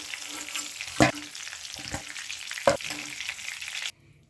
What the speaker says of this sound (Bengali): চিকেনটা আমি 4 থেকে 5 মিনিট গ্যাসটাকে মিডিয়াম টু হাই ফ্লেমে রেখে এভাবে উল্টে পাল্টে ভেজে নেব